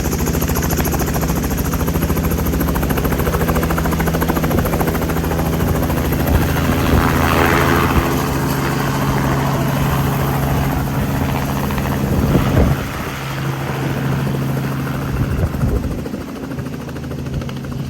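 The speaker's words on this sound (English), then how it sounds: "Alright guys, so I'm inside the helicopter right now." Helicopter engine and rotor roar inside the cabin on a sightseeing tour, a loud steady drone with a low rotor throb that continues without pause, no talking.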